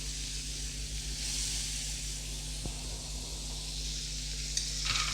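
Cashews and raisins fry in melted butter for a banana halwa, giving a steady, close sizzle and hiss with a low hum underneath and a few light clicks near the end.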